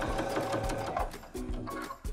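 A sewing machine stitches Velcro onto a necktie with blue thread top and bobbin, running in steady rhythmic bursts with brief pauses, close and clear.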